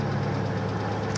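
A Porsche 928 engine runs with a steady, rough low rumble as the car is turned around, close and continuous.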